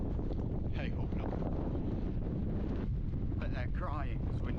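Steady wind buffeting the microphone on a hillside path on the Edale Skyline, a constant loud rumbling roar throughout with faint voices underneath.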